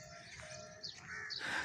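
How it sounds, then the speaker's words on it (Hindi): Birds chirping during a morning walk outdoors, with a few thin, high tweets and calls scattered over soft ambient noise, faint and somewhat distant. "स्पेशली ये बर्ड्स की आवाज़ें आती हैं"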